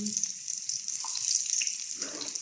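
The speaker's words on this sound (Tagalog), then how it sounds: "Siyempre magigisa tayo ng sibuyas," Onion and garlic sautéing for a tofu and bean sprout dish, giving a bright, steady sizzle and hiss up close, with faint clatter and a brief voice-like murmur near the end.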